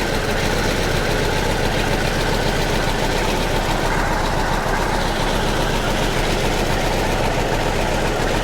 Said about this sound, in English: You can see the cooling fan come on.